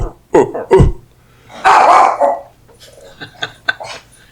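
A dog barks a few times up close, sharp loud barks, followed by a longer growly bark and some quieter sounds trailing off.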